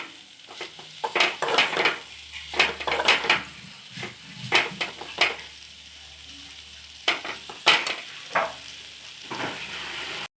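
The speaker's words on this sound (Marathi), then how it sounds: "याला परतून घ्यायचं।" Cluster bean (gavar) bhaji stir-frying in a pan with ground niger seed powder, a gentle sizzle under bursts of spoon scraping and clinking against the pan, close by, with no talking.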